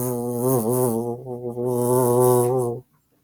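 A voice imitates a buzzing bee with a sustained, wavering hum that rises and dips for nearly three seconds, then stops abruptly.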